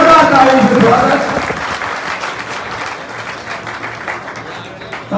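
Loud, dense audience applause welcoming guests at a gathering, a sustained wash of many hands that slowly tapers off, with no voices over it.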